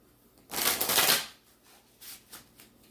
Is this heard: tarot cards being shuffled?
yes